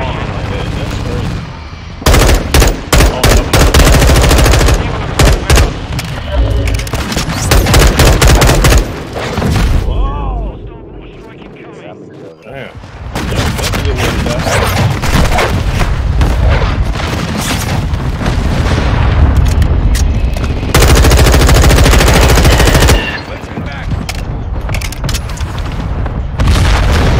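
Dense gunfire bursts and booming explosions from a Call of Duty Modern Warfare 2 firefight, loud and nearly continuous with rapid automatic volleys, briefly easing mid-way before the shooting resumes just as heavily.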